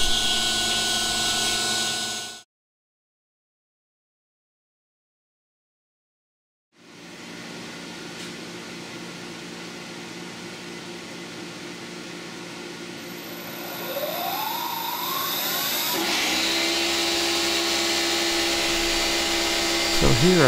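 A CNC milling machine takes an aggressive 0.2-inch-deep profiling roughing cut in metal for a motor mount. The steady grinding machining noise breaks off into silence, then resumes and grows louder with a rising whine near the end.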